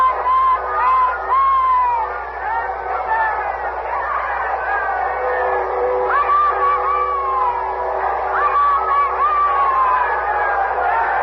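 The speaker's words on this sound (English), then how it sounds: "We'll open our microphones outside now and let you hear the crowd." A radio-drama crowd outside Windsor Castle in London, a steady mass of voices with shouts, whoops and cheers rising and falling throughout, fairly close and loud.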